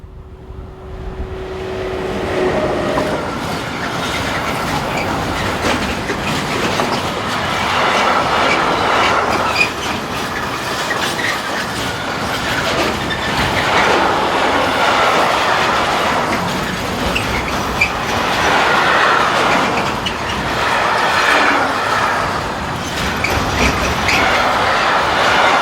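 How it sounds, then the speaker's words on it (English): A DB electric locomotive, 182527, hauls a freight train from Regensburg to Bremerhaven along the Northeim–Hannover main line in Germany, a loud continuous rumble with rhythmic wheel clatter and occasional squeal passing close by, with no talk. "The loco is viewed here powering train 50342 from Regensburg to Bremerhaven."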